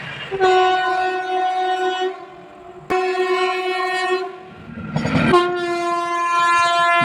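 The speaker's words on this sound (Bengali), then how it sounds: "তিন নম্বর লাইন দিয়ে সামনে দিয়ে ছুটে আসছে এক্সপ্রেস ট্রেন" An express train charges along the third line at night, its horn sounding three long, loud blasts separated by short pauses over a steady rail rumble.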